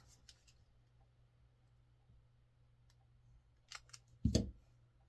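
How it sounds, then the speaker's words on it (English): Scissors cut a small piece of patterned paper in half for a Halloween paper-piecing craft: a few light clicks, then a couple of quick, close snips near the end, in an otherwise quiet room. "So I'm just going to take this little piece, cut it in half."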